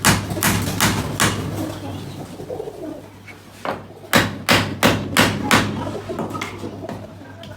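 Sharp hammer blows ring out while a wooden pigeon cage is built: scattered strikes first, then a quick run of about eight evenly spaced, loud, close knocks, with pigeons cooing faintly in the background.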